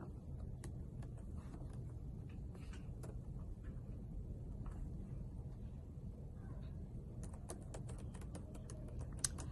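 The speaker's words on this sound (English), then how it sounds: "Then I start typing ABC 2021 motto levels and pricing." Keys clatter on a computer keyboard while a spreadsheet row is filled in, a run of quick, light clicks in uneven bursts over a low steady room rumble, fairly faint and with no one speaking.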